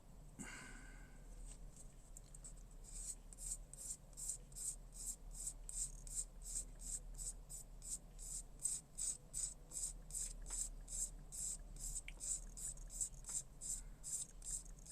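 A sanding stick is rubbed back and forth over a small plastic snap-build model kit part, producing quiet, rapid, rhythmic scratchy strokes that continue steadily throughout.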